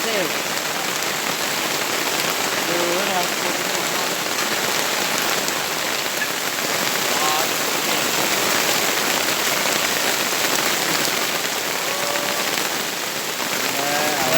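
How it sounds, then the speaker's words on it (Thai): Steady, dense rain falls on surfaces outdoors, a loud continuous patter lasting throughout, with faint voices and scattered chirps in the background. "ฝนตกยามนี้มันแห้งกันได้บ่"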